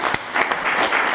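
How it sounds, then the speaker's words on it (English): An audience at a conference on legal issues for African domain registries claps for the interpreters, a short burst of fairly loud, dense applause heard alone. "We always forget to clap for the interpreters."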